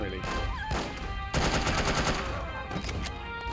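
Rapid gunfire from the video game No One Lives Forever, a sustained burst of shots in a fight against an enemy woman, loud and dense with a few pauses.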